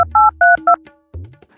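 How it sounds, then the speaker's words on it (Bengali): A telephone number is dialed as several short, loud touch-tone beeps in quick succession, followed by a brief fainter tone. "আমার সিআইডি রে ফোন দিতে হইব।"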